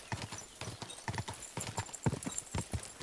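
A horse named Pebbles clip-clops along in the medieval Bohemia game Kingdom Come, with steady walking hoofbeats that are close and even, and no talking.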